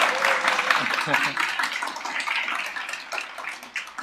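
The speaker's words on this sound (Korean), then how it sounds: "여러분 뜨거운 박수로 맞이해 주시기 바랍니다" A book-concert audience claps warmly to welcome politician Ahn Cheol-soo onto the stage. The applause is a dense, continuous wash with a voice briefly over it.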